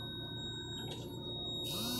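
A Simex XP300 machine sounds its equipment alarm to call for a stromatolizer replacement: a steady, high electronic beep tone that holds through the whole stretch against a constant background hum.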